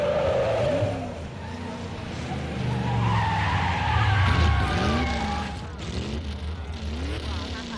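A race car engine revs and strains while tires squeal and skid in long rising and falling sweeps, the noise sustained and loud throughout with voices talking over it.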